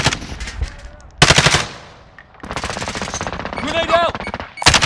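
Gunfire in the shooter game Call of Duty Modern Warfare, rapid automatic bursts of rattling shots, loud and close, broken by brief pauses between volleys.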